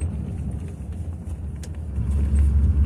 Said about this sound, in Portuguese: O freio motor do Volvo segura muito bem